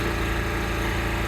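A small portable generator runs on a sailboat, a steady, even engine drone heard close, with no pauses or changes in pitch.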